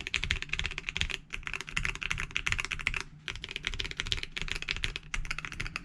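Rapid, steady clacking of keys being typed on a Jidohun KB115 mechanical keyboard, close and crisp, with brief pauses between bursts and no voices.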